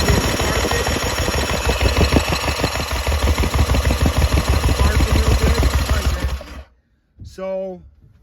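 The engine of a Yamaha LS2000 jet boat is cranked over, with a loud, steady, rhythmic chugging for several seconds before it stops. A voice follows briefly afterward.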